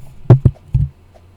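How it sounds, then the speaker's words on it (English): Several sharp mouse clicks in Roblox Studio, three distinct taps spaced irregularly over a faint background hum, close and fairly loud with no talking. "But if I start clicking"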